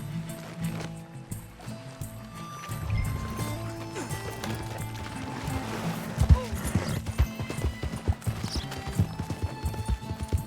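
Horse riding in the video game Red Dead Redemption 2: steady, close clip-clop of hooves at a brisk pace, layered over busy game ambience and music, with voices in the mix.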